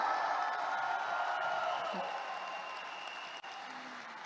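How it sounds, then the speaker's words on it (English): Applause from the audience at a seminar fills the room, a soft, even wash of many hands clapping at a distance that holds for about four seconds and slowly thins. "Can we all give ourselves a round of applause today to all the successful people in the house?"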